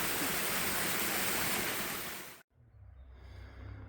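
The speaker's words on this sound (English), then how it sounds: "Going down into the river below." A river rushing below a stone wall and stile on a late autumn Peak District footpath gives a dense, steady roar of flowing water that cuts off abruptly, followed by quieter outdoor ambience.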